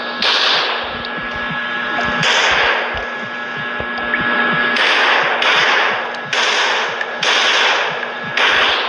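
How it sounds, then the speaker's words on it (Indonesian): Gunfire in the horror video game Muara Bangke cracks out in sharp bursts, some single and some clustered, loud and close against a steady hum, with no talk over it. "Ada suara tembakan"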